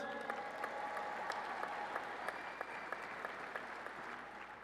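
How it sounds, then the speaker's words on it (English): Steady applause from an audience at a Texas Tech ring ceremony, a dense wash of clapping that holds at an even level for several seconds without a break. "let's give him a round of applause"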